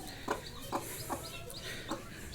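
A sick naked-neck chicken chick giving several soft, evenly spaced clucks and peeps, close and faint over steady background noise.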